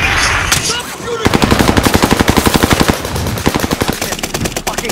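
Rapid automatic gunfire from Call of Duty Modern Warfare, a loud, close burst of evenly spaced shots running for several seconds after a brief lull, with a few sharper single cracks toward the end.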